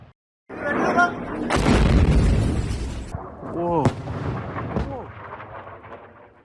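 Missiles striking and exploding on the ground in Israel: heavy, rumbling booms roll in one after another, with excited voices calling out between the blasts.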